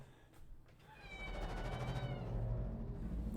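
A house cat gives a long, drawn-out meow that swells and holds, fairly close, over low background noise, after a few soft bumps.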